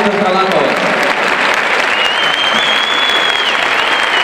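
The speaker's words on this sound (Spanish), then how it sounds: "Un aplauso para las alumnas que han trabajado tanto para hacer estos trabajos" Loud, dense applause from an audience cheering students at a beauty and characterization showcase, a continuous wash of many hands clapping close by, with crowd noise and voices mixed in.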